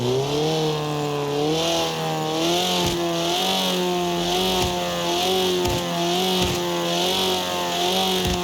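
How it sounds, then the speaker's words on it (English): Rally car engine from the Forza Horizon 2 video game, a loud continuous buzzy drone with slowly wavering pitch and brief dips between shifts. "coming from the terrible rally car sounds we heard in Horizon 2, for those who haven't heard it, listen to this"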